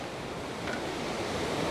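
Ocean waves roll onto the shore at Portland, Jamaica, a steady soft wash of surf and wind that stays fairly faint and unbroken, with no voices.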